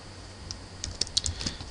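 Someone types a database query on a computer keyboard, a quiet run of close, light key clicks that speeds into a quick cluster near the end.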